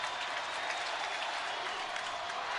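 A home-stadium crowd in the baseball video game MLB The Show 18 roars in a steady, dense wash of cheering and clapping that holds at an even level throughout, with no speech over it.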